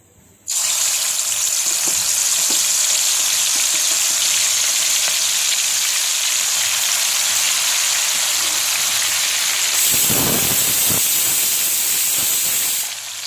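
Raw chicken pieces drop into hot oil in a kadai and fry with a loud, steady, hissing sizzle that keeps up almost without a break, with a brief spatter of clatter near the end.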